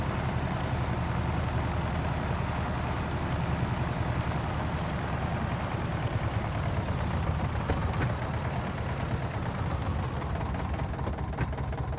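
Tractor engine in Farm Restorer, over-fuelled and drinking heavily, runs steadily at a loud, constant low rumble with a rough knocking texture throughout, no one speaking.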